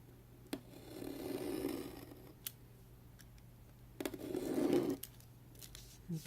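Scissors cutting paper to make a pocket for a traveler's notebook, a few quiet snips and two longer soft swishing cuts, close up, with faint clicks between and no talk.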